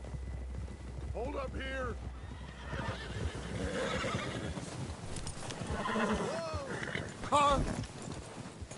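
Horse hooves clip-clopping and repeated whinnying from a video game ridden near a lake, with wind noise behind and voices calling out over the animal sounds.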